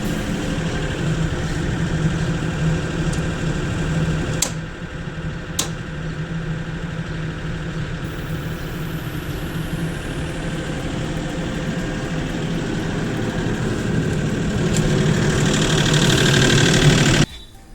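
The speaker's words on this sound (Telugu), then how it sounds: "సో జనరేటర్ స్టార్ట్ అయింది, జనరేటర్లోకి చేంజ్ అయింది." A standby generator engine runs steadily after an automatic transfer switch changeover, a continuous droning hum with a few faint clicks, no voices.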